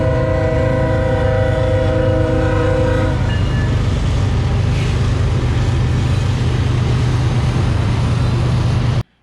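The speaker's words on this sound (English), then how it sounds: "we've got a train coming through literally 50 yards outside the door" A train rumbles past about 50 yards from a parked RV, loud and continuous. Its horn blares for the first three seconds before the heavy rolling noise carries on alone and then stops abruptly.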